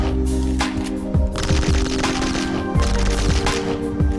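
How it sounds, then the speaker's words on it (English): Rapid shotgun blasts in the flash game Boxhead: 2Play, a dense run of repeated bursts over continuous game music and effects, loud and close. "Shotgun."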